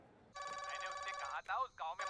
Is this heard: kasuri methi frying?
no